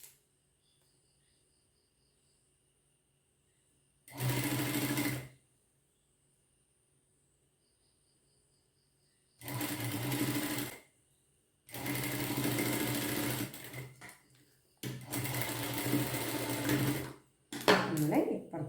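Electric sewing machine stitching fabric for a slim child's garment, running in four separate bursts of steady, close whirring with quiet pauses between them.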